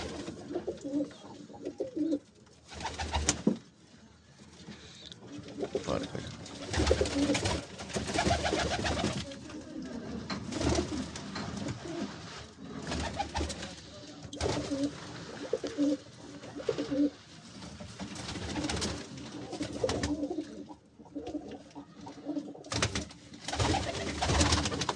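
Breeder Shaqa pigeons cooing steadily at close range, overlapping soft throaty coos and bursts of wing flutter filling the whole stretch without any talk.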